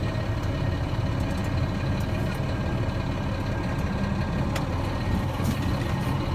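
A tractor truck creeps forward slowly at about 5 miles per hour during a service brake test, its heavy diesel engine making a steady, continuous low rumble close by with no talking.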